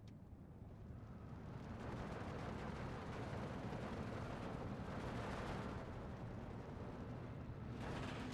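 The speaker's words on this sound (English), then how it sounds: "Mortars continuing to lay down fire." Mortar fire in Steel Division 2, a dense, continuous rumble of distant blasts and gunfire that stays steady and fairly faint throughout, with no voices.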